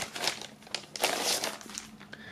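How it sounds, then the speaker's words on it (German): A vinyl record slides out of a white paper sleeve at close range, giving irregular crinkling and rustling bursts of paper handling. "Wir starten natürlich mal mit der Vinyl, diese wie so oft in so einer weißen Papierhülle aufbewahrt."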